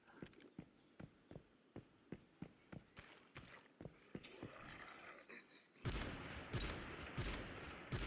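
Rapid gunfire in the Once Human shooter game: a string of sharp, evenly spaced single shots, then a dense, loud burst of fire near the end.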